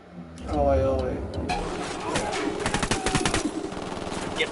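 Automatic gunfire in the video game Ghost Recon Wildlands crackles in rapid bursts through the second half, mixed with game sounds and a player's voice talking over it.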